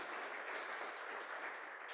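Soft, continuous applause from a church congregation at a Bible study gathering, a faint, even rush of many hands clapping without any voices.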